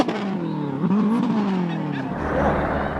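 A Subaru Impreza rally car with a failing gearbox revs hard in a rally stage, the engine note rising and falling through strained gear changes, loud and close.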